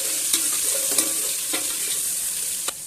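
Onions hit hot oil already tempered with cumin and whole dried chillies, setting off a steady, loud frying hiss broken by a few faint clicks from the pan.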